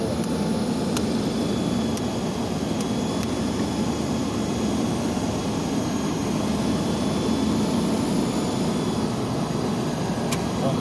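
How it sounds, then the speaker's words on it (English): An NSS eForce 27-inch battery floor burnisher running with its pad head lowered onto the floor, giving a steady, loud, unbroken whir and drone throughout with no pauses. "now you'll see the pad head has gone down and we're burnishing the floor"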